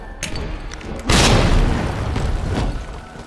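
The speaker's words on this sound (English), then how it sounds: "Let's grenade these zombies." A grenade blast in the Resident Evil 2 Remake game, one loud heavy boom that lands after a second of lighter clatter and rumbles on afterward, close and dominant.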